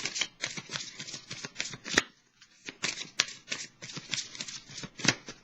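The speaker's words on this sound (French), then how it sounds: "je vais piger une carte rose pour vous" Tarot cards shuffled and drawn for a Gemini reading, a close, crisp run of riffling and flicking card sounds with short pauses and a few sharper snaps.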